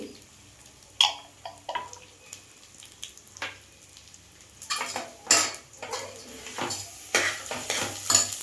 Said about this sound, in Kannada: ಸನ್ಫ್ಲವರ್ ಸೀಡ್ಸ್ ಹಾಕ್ಕೊಳ್ತಾ ಇದ್ದೀನಿ